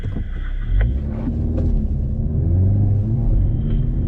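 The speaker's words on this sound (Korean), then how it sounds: "첫 번째 차량 스포츠 모드로 출발하겠습니다" A 2020 Hyundai Veloster N with an 8-speed DCT pulls away in sport mode, its engine a steady, loud low rumble with a brief surge near the start and wind buffeting the microphone throughout.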